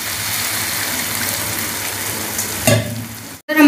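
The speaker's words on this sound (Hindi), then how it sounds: "थोड़ा सा पानी डाल के इसको अच्छे से पका लेते हैं मसाले को।" Steady sizzling of spices cooking in a pan with a little added water, a continuous hiss with a brief clatter near the end, close and fairly loud.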